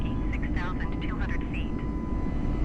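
A Microsoft Flight Simulator 2020 airliner takes off with a steady, loud engine roar filling the clip, while someone talks over it and radio chatter breaks in.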